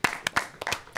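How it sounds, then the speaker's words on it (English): A few sparse, scattered claps from a small studio audience at a comedy game show, weak and uneven bursts rather than sustained applause. "I know pity claps."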